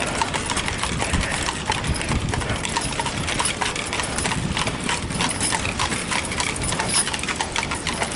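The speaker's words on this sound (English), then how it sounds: "Oh, look at these horses." Steady clopping of horse hooves at Greenfield Village mixed with a continuous rumbling engine-like noise, dense and fairly loud throughout.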